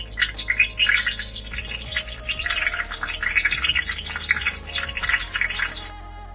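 Green chilies dropped into hot ghee in a preheated pan give a loud, steady frying sizzle. The crackle continues for about six seconds with no talk, then cuts off sharply.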